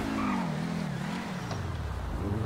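A Lamborghini supercar in GTA 5 speeds along a highway, its engine a steady close drone with a pitch that dips and rises as the car shifts and accelerates, continuous throughout with no talking.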